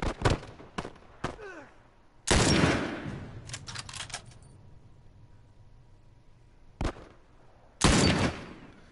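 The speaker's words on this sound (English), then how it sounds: "Just glad I don't actually need to make headshots with this high-powered sniper rifle." Gunfire from a high-powered sniper rifle in the video game The Last of Us, a few sharp loud shots and bursts spaced apart, with quiet gaps between them.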